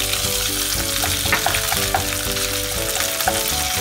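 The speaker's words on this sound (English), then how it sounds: "Now in the same pan, I will be dropping in green chilies. Saute them a bit." Green chilies and ginger paste sauté in a pan with a loud, constant close sizzle and occasional stirring clinks, no one talking.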